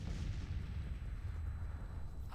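Artillery in a Civil War strategy game rumbles faintly as a dense, continuous series of low distant booms blending into one another, with no voices.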